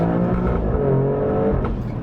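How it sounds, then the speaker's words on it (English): Alfa Romeo Stelvio Quadrifoglio in race mode pulling away in traffic, a loud sustained engine and exhaust roar with rising pitch and some burbling texture, close and continuous. "A lot of farts and burbles from the exhaust"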